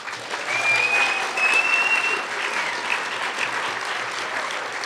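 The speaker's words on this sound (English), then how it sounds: "And a round of applause for Actors Mission and Dr. Kraft." A crowd claps steadily at the Wyoming Governor's Arts Awards 2022, the applause swelling briefly then holding at an even level, with a faint whistle or cheer on top.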